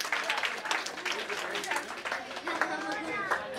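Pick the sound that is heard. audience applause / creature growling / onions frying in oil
audience applause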